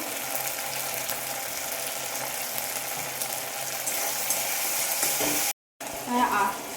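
Boiled potatoes sautéing with spice masala in a pan, a dense, steady sizzle and hiss with occasional stirring scrapes, briefly cutting out near the end before a louder burst of frying, with no voices.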